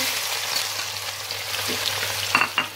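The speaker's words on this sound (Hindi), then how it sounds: "अब मैं प्याज को ब्राउन करने लगी हूँ।" Large onion browning in a cup of hot oil gives a steady, close hiss of frying, with a few brief stirring clinks near the end and no talk.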